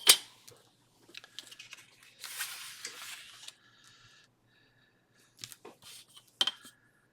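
Paper torn by hand around a flower shape, with quiet, close ripping and crinkling in several short bursts separated by pauses.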